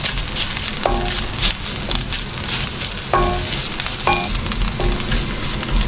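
Ginger garlic paste sautés in a pan for butter chicken, giving a steady close sizzle while a utensil scrapes and clinks against the pan several times.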